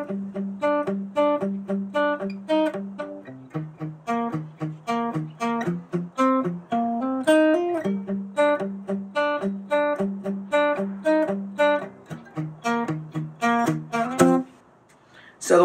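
Electric guitar plays the intro riff at half speed, a steady run of clear picked notes and chords that stops briefly near the end.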